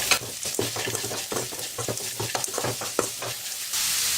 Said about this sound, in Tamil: ஸ்டவ் குறைச்சி வச்சுட்டு கண்ணில் வச்சு வதக்குங்க.